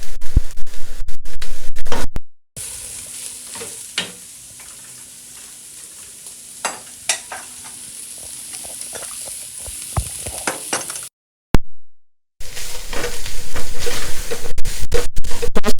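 Ground beef sizzles and crackles in a hot pan with spices for samosa filling, a spoon scraping and stirring through it in repeated strokes, with two brief silent gaps breaking the steady frying.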